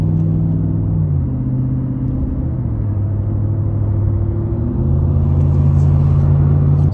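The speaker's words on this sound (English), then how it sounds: "that is a bunch of police units and a bunch of street sweeping trucks that are going to be blocking that road" Kamaz street-sweeping trucks and police vehicles idle on a blocked Russian road, giving a loud, continuous low engine drone whose pitch shifts gently as engines rev and settle. No one speaks.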